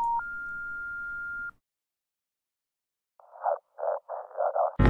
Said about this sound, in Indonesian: Telepon! Telepon!